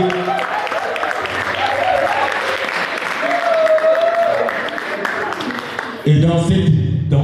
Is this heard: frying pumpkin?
no